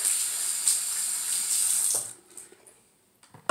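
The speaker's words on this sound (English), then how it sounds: "So that's why I keep turning on the water." A tap runs steadily into a sink while a hair brush is rinsed, a close hiss for two seconds before the water shuts off, leaving faint clinks and handling noises.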